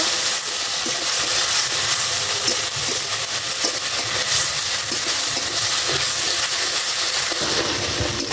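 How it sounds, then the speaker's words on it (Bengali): Cumin paste and garam masala frying in oil while being stirred, a steady close hiss and sizzle with scraping stirs running throughout, no voices. "জিরা, গরম মশলা, শুকনো জল। দিয়ে এবার সুন্দর করে কষিয়ে নিব।"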